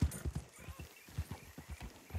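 Horse hooves pounding in a fast galloping rhythm in the video game Red Dead Redemption 2, a steady run of quick clip-clop beats heard alone and fairly faint.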